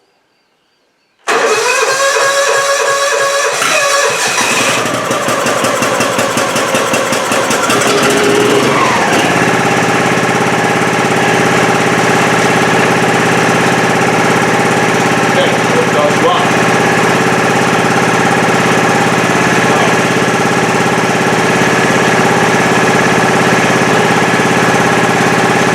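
Riding lawn mower engine cranking over and catching on choke, then settling into a loud, steady idle that continues close by, with rough mechanical clatter early on.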